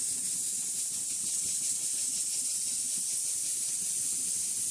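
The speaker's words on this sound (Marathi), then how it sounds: "तोपर्यंत आपल्या कुकरला शिट्टी पोहते." A pressure cooker on a gas stove at low flame while chicken soup cooks, giving a steady, fairly loud hiss of escaping steam that holds unbroken throughout.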